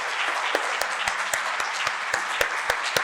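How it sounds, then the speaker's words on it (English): Audience applause for panelists at a sustainability summit, a steady wash of clapping with sharper individual claps standing out, moderately distant and filling the room without any voices. "first I would like to give an applause to our panelists"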